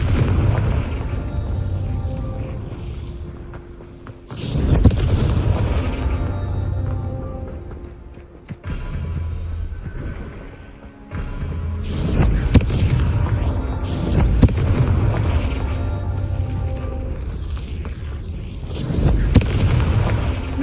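A Confringo fire spell explodes repeatedly in the Hogwarts Legacy video game, loud booming blasts arriving in bursts every few seconds over a rumbling game soundtrack, with no talking.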